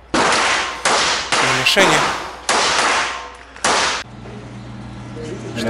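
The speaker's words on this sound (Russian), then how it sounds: "Вот хозяин карабина сам стреляет." Sharp, loud gunshots from a 5.7x28 caliber carbine at an indoor shooting range, five reports spaced about a second apart with echoing decay, followed by a person speaking briefly.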